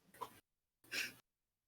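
Two short sneezes, close and fairly quiet, separated by a brief silence.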